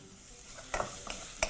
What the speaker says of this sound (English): proceed to fry everything together